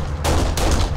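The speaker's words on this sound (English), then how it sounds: "I hear somebody shooting." Gunfire in Kane & Lynch: Dead Men, three loud, heavy shots in quick succession, close and booming, with no talk over them.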